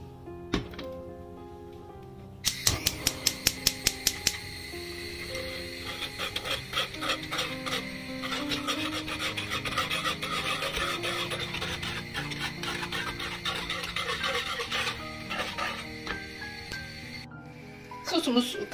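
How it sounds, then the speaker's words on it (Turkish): Chocolate cookie sauce boiling in a pot on the stove, with close bubbling plus scraping and rasping stirring sounds in short bursts, then a steady simmer. A voice talks over it. "Sosumuz kaynamaya başladı."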